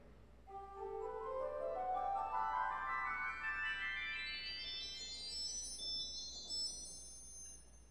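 Quintanon stop on a 1954 Aeolian-Skinner pipe organ at St. John's Lutheran Church in Forest Park, Illinois, sounding a steady, bright rising run of notes that climbs continuously for several seconds, then fades into a sustained high tone, loud and alone.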